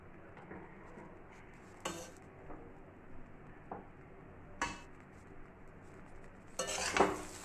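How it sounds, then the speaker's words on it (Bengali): Cumin rice stirred with ghee in a pot, soft scraping and light metallic clinks from a spoon against the pot, quiet and close, with a louder clatter toward the end. "ব্যাস ঘি দিয়ে নাড়াচাড়া করে নেবো"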